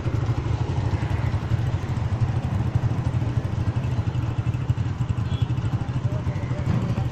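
Two motorbikes ridden toward the Head Sulemanki border area in Pakistan; a steady, loud engine drone with a rumbling low end runs without a break and does not rise or fall much, as if heard close up from on board.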